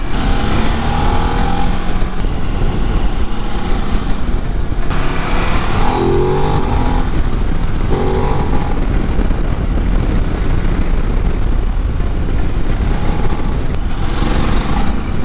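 A Ducati DesertX adventure motorcycle's engine roars continuously and loudly during a riding test, with wind rush and surges of throttle throughout.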